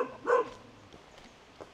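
Big dog at a remote Dao Tuyen mountain home giving one loud, close bark near the start, then fainter sounds trailing off, with a brief sharp noise at the end.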